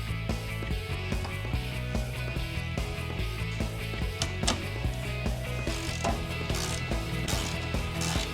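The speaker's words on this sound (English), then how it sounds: "now we're going to take out these 3 bolts. What size socket are you going to use? Use a 5/16 socket." A hand ratchet fitted with a 5/16 socket backs out bolts on a Jeep TJ during a CB antenna mount install, giving steady clicking pawl ticks over faint mechanical clatter, close up and continuous with no talk.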